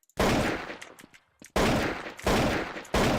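Pistol shots ring out in a Counter-Strike Jailbreak match, three loud, sharp reports spaced over a few seconds, each with a brief ringing tail and quiet gaps between.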